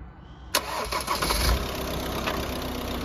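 A car engine cranks and catches after a jump start, bursting into life with a sharp onset and then settling into a steady, close idle.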